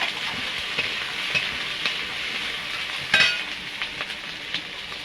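Chopped onion and slit green chilli frying in oil in a kadai for a fish curry, a steady close sizzle with scattered scrapes and clinks of stirring, one louder knock around the middle.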